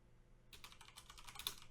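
Rapid keystrokes on a computer keyboard, typing a chat command into a game, start after a quiet half second and continue as a close, steady clatter of clicks with no talk.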